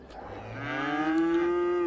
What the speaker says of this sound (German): Oh, Kühe.